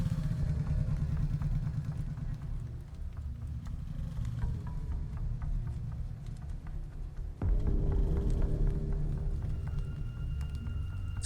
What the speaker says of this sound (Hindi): फिर उसने बाइक स्टार्ट की और उस रास्ते पर मुड़ गया